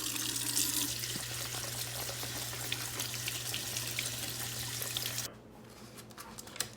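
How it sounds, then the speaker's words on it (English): Tap water runs steadily into a sink while tomatoes are washed, a close hissing stream for about five seconds before it shuts off, leaving a few faint drips and handling sounds. "So now that we have washed some of these tomatoes, we're just gonna add them in."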